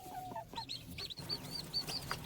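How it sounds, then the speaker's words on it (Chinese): Small chicks sheltering under a Call duck mother give a run of thin, high peeping calls, rapid and repeated at close range on a cold rainy day, with faint background rustling. "我听到小鸡的叫声呢"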